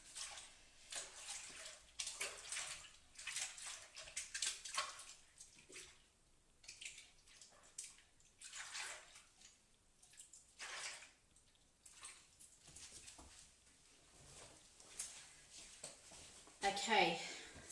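Hands are washed under running tap water at a kitchen sink, soft intermittent splashing and rinsing that swells and fades in bursts, fairly quiet and close.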